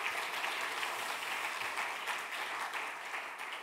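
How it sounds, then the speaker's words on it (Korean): A church congregation at a Wednesday worship service bursts into dense, vigorous applause, many hands clapping in a continuous wash that holds steady and loud from start to finish. "우리 힘찬 경례 박수 한번 보내주시고"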